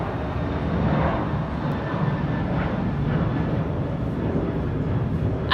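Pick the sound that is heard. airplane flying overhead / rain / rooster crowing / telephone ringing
airplane flying overhead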